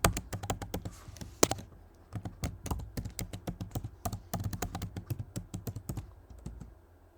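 Rapid keystrokes on a computer keyboard as an SSH command and password are typed in, irregular bursts of close, crisp taps with short pauses, no voices.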